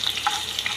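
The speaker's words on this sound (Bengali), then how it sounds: "তেল গরম হয়ে গেছে, আমি পেঁয়াজ কুচি দিলাইয়া। আমি খুব সুন্দরভাবে পেঁয়াজ কুচিটাই ভাজা ভাজা করব।" Chopped onion fries in hot oil, giving a brief, close burst of crackling sizzle with small pops and no voices.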